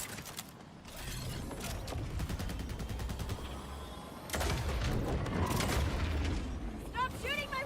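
Gunfire in the video game Borderlands 4, with rapid automatic bursts and booming shots in dense overlapping volleys, loud and continuous, plus a brief burst of game effects near the end.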